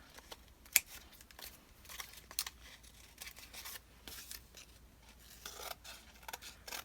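Scissors snip close and quietly through excess paper at the edge of a collage frame, a series of short, irregular cuts mixed with faint rustling of the paper.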